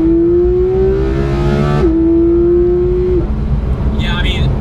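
A Porsche 991 GT3 engine shrieks loudly, its high pitch climbing steadily before dropping back and holding a strained, rising note.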